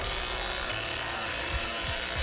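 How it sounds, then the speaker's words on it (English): A chainsaw in The Texas Chainsaw Massacre game roars steadily and loudly throughout, a dense continuous engine drone with slight rises in pitch. "And this chainsaw is so damn loud"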